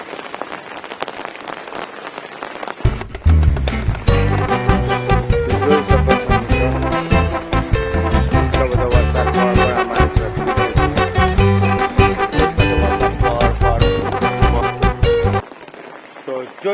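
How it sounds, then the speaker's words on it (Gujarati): Heavy rain pours onto a terrace in a loud, dense, steady hiss of drops that begins abruptly and continues without let-up until it cuts off near the end. "એટલો બધો વરસાદ પડી રહ્યો છે"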